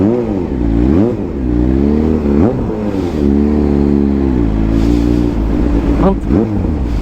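Kawasaki ZH2 motorcycle being ridden, its engine rising and falling in pitch through throttle changes and gear shifts, loud and close with a brief rev near the end; a voice talks over it.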